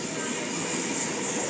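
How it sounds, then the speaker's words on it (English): Suburban Sydney electric trains running through station platforms on the line between Oatley and Sutherland, a steady loud rushing hiss with no distinct breaks, brief and continuous. "Here we have a train passing Platform 2. And we have a train passing Platform 1 as well."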